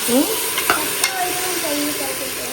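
A spoon stirs and mixes curd into food in a pan, giving scraping, clinking strokes over a faint sizzle, close and fairly loud.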